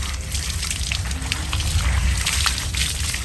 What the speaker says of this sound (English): you can definitely wash all of this off